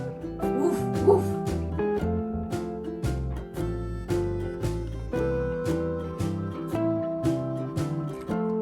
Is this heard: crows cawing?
no